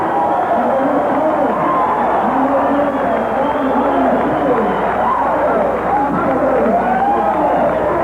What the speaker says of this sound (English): The crowd is yelling for 700 pounds